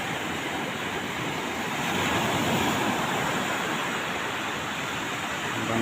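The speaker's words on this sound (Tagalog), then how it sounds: "Malaki pa yung alon." Large ocean waves surge in a steady, loud roar of breaking surf at night during a power outage, a continuous wash of water noise with no voices.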